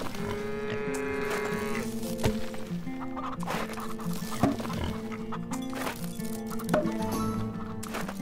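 Farm animal calls from the video game Farm Together, where cows on a farm produce bottled milk; bleating and lowing-like calls repeat over a steady busy game soundtrack, moderately loud with several sharp accents.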